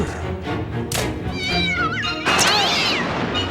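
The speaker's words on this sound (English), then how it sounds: "A cat waddles his way in carrying a fish." An animated cat in a Batman episode meows and yowls, two drawn-out wavering cries rising and bending in pitch, loud and close against a busy cartoon soundtrack of thumps and background noise.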